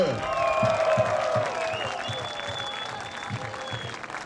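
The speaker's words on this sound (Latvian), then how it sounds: "Vēlreiz milzīgi aplausi šiem cilvēkiem!" A crowd applauds the winners of the Stipro Skrējiens obstacle run in Latvia, with sustained outdoor clapping and cheering while a voice calls out over it.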